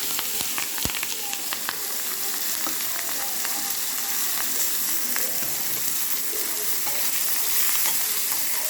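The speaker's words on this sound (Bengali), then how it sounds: "দিয়ে এখানে দেখো আমি পেঁয়াজ, কাঁচা লঙ্কা, শুকনো লঙ্কা কুচিয়ে আমি রেখে দিয়েছি। এটাকে আমি ভেজে নিব।" Chopped onion with green and dry chillies frying in oil, a dense, steady crackling sizzle heard up close, with occasional clicks and stirring taps across the whole stretch and no talking.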